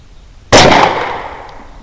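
A single sharp rifle shot fired at a beaver on a property, sudden and loud after quiet, with a long decaying echo rolling off afterward.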